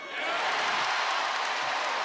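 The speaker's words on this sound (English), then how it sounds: "Crowd wants to erupt and sort of begin the court storming before they even get possession" A basketball arena crowd at a Connecticut versus Marquette game roars in a dense, sustained wall of cheering and applause, loud and continuous throughout.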